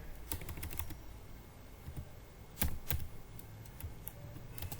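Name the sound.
typing code on a computer keyboard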